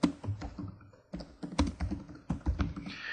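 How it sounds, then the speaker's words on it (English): Keystrokes clatter on a computer keyboard in quick, uneven bursts with short pauses, close and fairly quiet, as someone types a text description. "What we can do is type a description in here."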